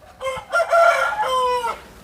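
An 11-month-old Aseel rooster, heavily built at about 3.7 kg, crows loudly and close by in a single drawn-out call with a stepped, rising-then-held shape, heard alone.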